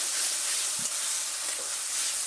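Onions frying with chilli and poppy seed paste, a steady close hiss of oil sizzling with a faint stirring scrape, brief and without speech.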